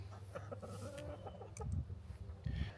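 Egg-laying chickens on pasture cluck and squawk continuously at close range, several birds overlapping with a few louder outbursts, no talking.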